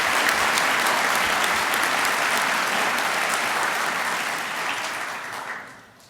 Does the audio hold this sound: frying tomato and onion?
no